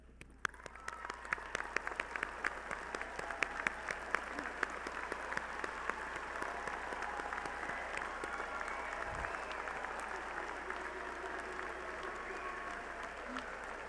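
Parents at a university commencement ceremony draw applause from the audience, with sharp claps at first that build into a broad, sustained ovation lasting well over ten seconds.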